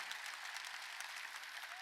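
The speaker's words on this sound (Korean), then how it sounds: "박수치라" A church congregation claps during a Sunday worship service, making a faint, dense patter of many hands. It sounds continuous and somewhat distant.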